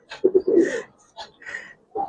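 Giribaz coloring pigeons coo close by in short throaty bursts, a few separate calls with brief pauses between them.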